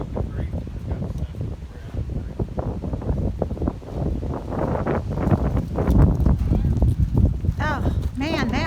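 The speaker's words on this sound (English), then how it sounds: "Oh, man, that wind." Wind gusting outdoors at a sawmill lumber work site makes heavy, rumbling buffeting that roars across the microphone and builds toward the end, while people talk throughout.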